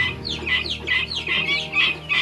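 Young guinea fowl keets, sold as healthy and strong, chirp in a busy flock with repeated high peeping calls overlapping continuously at moderate, steady loudness with a low background hum.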